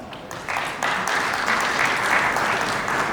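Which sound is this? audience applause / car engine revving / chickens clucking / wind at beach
audience applause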